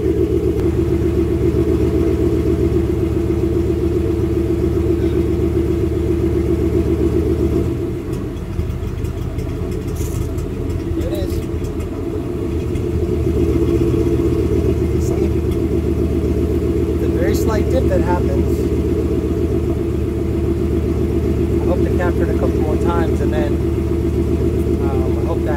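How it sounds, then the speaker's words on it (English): A Gen 3 Mustang Coyote V8 idles steadily at close range with an intake cam stumble, its low rumble dipping and wavering briefly near the middle before settling back; faint background sounds appear late, with no talk. "Sounds like a cam lobe idle tune for a second."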